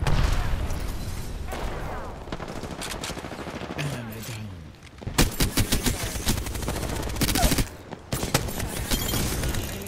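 Rapid automatic gunfire in Apex Legends, long dense bursts of close, loud shots with short pauses and mechanical clatter, plus game effects and some talking underneath.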